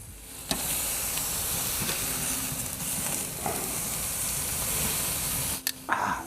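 Marinated ribeye steaks hiss in a loud, steady sizzle on a hot grill, broken by a sharp clank at the start and a few knocks near the end as the meat is flipped.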